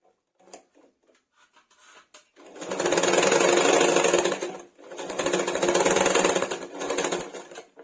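A sewing machine stitches a bolster pillow cover made from old cloth: a few light clicks and short starts, then two long, fast, even runs of rattling stitching separated by a brief pause.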